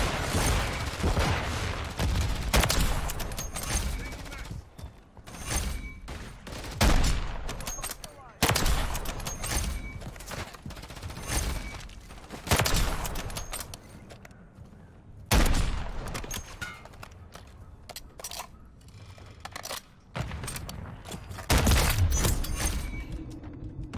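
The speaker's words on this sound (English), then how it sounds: "Taking fire." Repeated bursts of loud, close gunfire from the Call of Duty MW3 video game, with sniper shots and rapid volleys recurring every few seconds alongside clattering mechanical reload sounds and sharp booms, with some speech mixed in.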